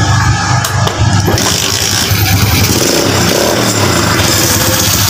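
A Honda C100 motorcycle with a freshly repaired CDI and cleaned carburetor starts and runs, its small engine puttering loud and close at a steady pace throughout with some mechanical clatter.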